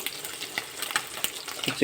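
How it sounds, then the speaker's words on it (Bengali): Small puti fish fry in a pan at home, giving a steady crackling sizzle with scattered sharp pops throughout, fairly close and with no talk over it. "আর এদিকে মাছ ভাজা হচ্ছে"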